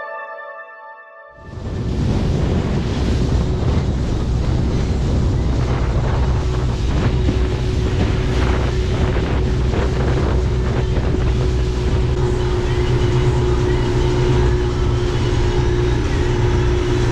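Boat running on water through wind, its engine a loud, constant drone mixed with heavy wind buffeting and splashing that continues steadily for the whole stretch, with no voices.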